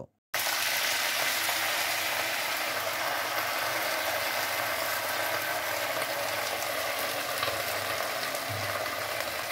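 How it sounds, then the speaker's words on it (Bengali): Chopped taro leaves hit hot oil in a kadai tempered with bay leaf, cumin and dried red chilli, and a loud, even sizzle runs unbroken after a brief silent start. "কড়াইতে গরম তেলের মধ্যে তেজপাতা, জিরা ও শুকনো লঙ্কা ফোড়ন দিয়ে তার মধ্যে আগে থেকে কেটে রাখা কচুর শাক মা দিয়ে দিল"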